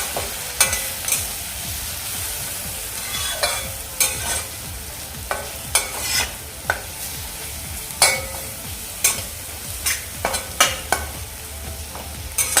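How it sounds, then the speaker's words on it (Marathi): Ground spices, including Kashmiri red chilli, turmeric and garam masala, are stirred and sautéed in a pan over a medium flame for an eggplant and potato dish, with a soft steady sizzle and repeated sharp spoon scrapes and clinks, no talk. "एक दोन मिनटं हे आपण परतून घेऊयात मसाले सर्व"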